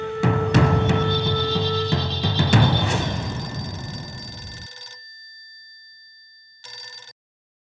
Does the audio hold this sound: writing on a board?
no